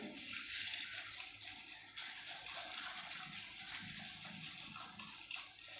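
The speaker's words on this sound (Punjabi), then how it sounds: "ਖਿੱਲਾਂ ਦੇ ਵਿੱਚ ਆਪਾਂ ਪਾਣੀ ਐਡ ਕਰਕੇ ਰੱਖ ਦਿੰਨੇ ਆ" Water pours from a vessel onto puffed chickpeas in a home kitchen, a soft continuous splashing trickle heard close and quiet.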